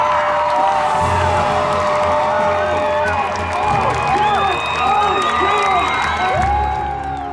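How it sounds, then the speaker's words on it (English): A large crowd at a Utah high school marching band competition cheers and whoops loudly throughout the announcement of results, with shouting voices, clapping and high-pitched yells sustained from start to finish. "They cheer for their competitors."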